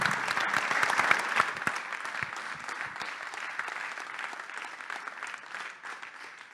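An audience claps steadily for several seconds at a forum talk, a dense burst of applause that gradually thins and fades toward the end.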